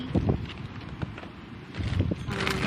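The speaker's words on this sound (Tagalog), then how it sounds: "Esensya na mahangin." Gusty wind buffets the microphone in uneven low thumps and rumbles, with a faint voice briefly audible beneath the noise.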